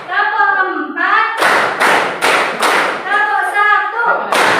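Children in a classroom clap together in a rhythmic counting game, a series of loud, sharp group claps in a steady beat, with chanting voices between them.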